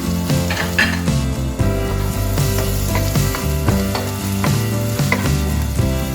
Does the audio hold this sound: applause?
no